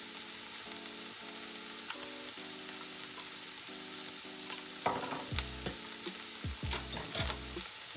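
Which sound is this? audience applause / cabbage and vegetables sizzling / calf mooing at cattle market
cabbage and vegetables sizzling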